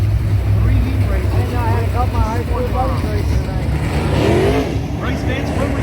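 Dirt late model race cars roaring around a dirt track, engines droning and rising in pitch as cars pass, under an announcer's voice over loudspeakers.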